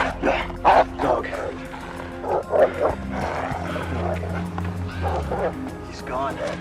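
A dog barks in a tense indoor scene, short sharp barks repeating at a moderate distance, partly masked by a steady low background rumble.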